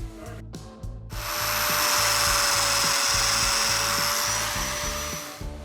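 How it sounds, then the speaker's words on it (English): A domino joiner cutting joints in a wooden frame, with a brief start-up and stop, then a sustained loud high whine close by over a rapid steady mechanical chatter, winding down at the end. "then we'll put our domino joiner to work"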